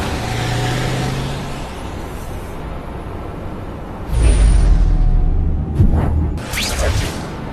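A truck engine drives past in The Amazing Spider-Man 2 video game, a loud rumbling motor with whooshing surges, swelling sharply partway through with a few sharp transient hits.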